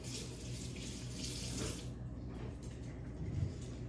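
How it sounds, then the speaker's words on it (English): Water runs from a kitchen tap as a hand is wetted before stretching and folding sourdough, a steady close splashing that stops partway through and leaves a quiet room. "So I'm wetting my hand."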